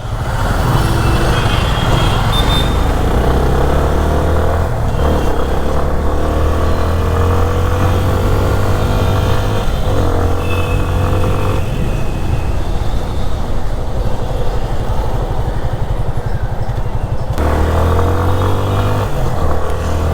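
Yamaha FZ25 BS6 motorcycle riding on a city street, a steady close engine drone with continuous low rumble and passing traffic noise, gear changes marked by brief shifts in pitch, no talking.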